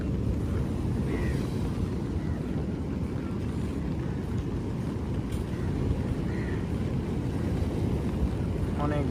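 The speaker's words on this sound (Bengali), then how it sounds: "বিশাল বিশাল সুউচ্চ ঢেউ" Big, rough waves on the Indian Ocean in rain, heard from aboard a boat: a steady broadband wash of water and wind noise rolling on throughout, with no clear speech.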